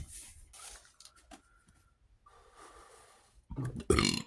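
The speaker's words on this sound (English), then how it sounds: "Let me blow my nose again." Faint breathy snorts and sniffing give way to a loud, forceful nose blow near the end, with quiet rustling between.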